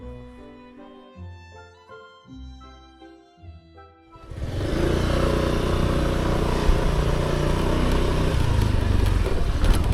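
Motorcycle riding on a road toward a lively neighbourhood of Urumqi, Xinjiang: engine and road noise enter around four seconds in and hold steady and loud after a quieter musical opening.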